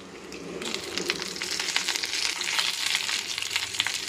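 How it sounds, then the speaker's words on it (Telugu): Urad dal, chana dal, curry leaves and dried red chillies crackle in hot oil as a tempering for a boiled groundnut and mint chutney, a loud, close sizzle that swells with spitting pops after a quieter start. "మినప్పప్పు వేసి చిటపటలాడిన తర్వాత కరివేపాకు, అలాగే నేను కాస్త ఎండుమిర్చి వేస్తున్నాను."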